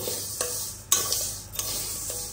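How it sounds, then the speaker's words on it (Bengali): Lentils (dal) dry-frying in a pan for bhog khichuri, a steady close sizzle with several sharp stirring scrapes and clinks spaced through the short stretch, no voices. "প্রথমে ডালটা ভেজে নিচ্ছি"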